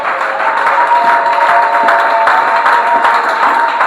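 A church congregation at a Sunday worship service applauds and cheers for the pastor, a dense, steady wall of clapping and crowd noise that stays loud throughout.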